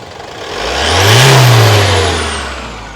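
A car engine free-revving with no load: one rev swells up smoothly, peaks, then winds back down, loud and close with no voices.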